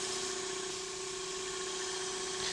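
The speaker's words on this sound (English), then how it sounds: "you can start the lathe and then just use the towel to spread it round" A wood lathe spins a sapele bowl while finish is spread over it with a towel, giving a steady, close motor hum with a constant tone and no talking.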